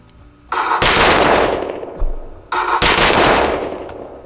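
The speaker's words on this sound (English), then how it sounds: "Let's go with a gunshot here." Two loud, close AI-generated gunshot effects, each a sharp crack followed by a long rolling boom and decay, the second coming about two seconds after the first, with no voices.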